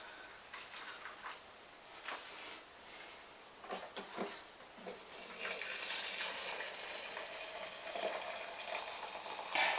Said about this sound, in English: I'm just going to fill the two tins with some boiling water, as you can no doubt see and or hear.